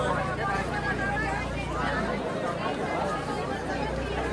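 Dense crowd chatter at the crowded Khandoba temple in Jejuri, a steady close babble of many voices with no single sound standing out.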